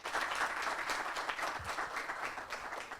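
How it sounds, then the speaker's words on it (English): An audience at a film festival panel session claps for the panelists and moderator, dense even applause from a room full of people, fairly soft and continuous. "Let's once again give a huge round of applause to all our panelists and of course our moderator."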